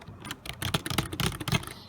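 Quick, soft clicking of a Logitech K230 wireless membrane keyboard being typed on, a close, fairly quiet irregular patter of keystrokes with nothing else over it.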